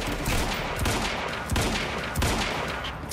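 Gunfire in a Quantum Break firefight: rapid, loud bursts of automatic shots in a few rhythmic volleys, echoing over a constant rumbling background.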